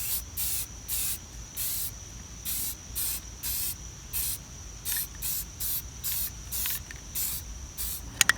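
Semi-gloss spray paint hisses from an aerosol can onto a part of a 1965 Craftsman bench grinder in roughly seventeen short, evenly spaced bursts, each a soft close hiss with quiet pauses between.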